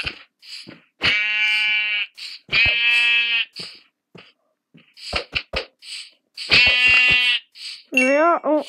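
Sheep in the Minecraft video game bleat loudly in several long, wavering cries, with short clicks and game effects in the gaps between them.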